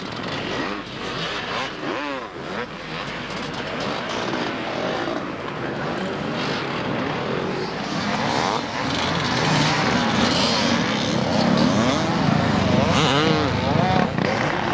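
Motorcycles racing on a beach at the 1992 Southport beach race, two-stroke or four-stroke machines including a Husqvarna 510 and a Suzuki, roar and whine continuously from mid-distance, engine notes rising and falling as bikes pass, with a steady loud crowd-like wash underneath.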